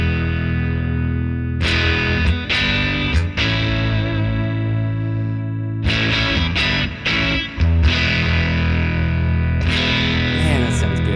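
Electric guitar played through a homemade clone of a JHS pedal with the input gain turned up, giving a loud, saturated, overdriven tone of sustained chords and riffs with brief pauses between phrases.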